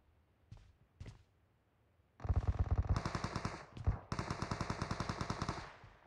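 Rapid bursts of automatic gunfire in a PUBG match, loud and close, pausing briefly midway before another long stretch of rapid shots, after a few faint thuds.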